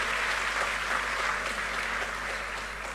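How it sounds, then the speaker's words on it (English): Audience applause at a university graduation congregation, a dense, steady wash of many hands clapping throughout, loud and continuous with a low hum beneath. "Can we give them a little hand of applause?"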